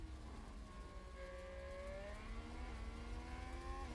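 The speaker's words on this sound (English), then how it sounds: "I'm listening to the engine sounds," Formula 1 race car engines in the F1 Manager 2022 racing game at the Brazilian Grand Prix, a steady high-pitched whine that slowly rises in pitch, with several cars layered over a low rumble.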